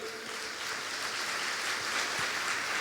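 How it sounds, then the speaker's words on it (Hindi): A worship congregation clapping together, a dense, even wash of applause that holds steady for a few seconds. "ताली बजाई।"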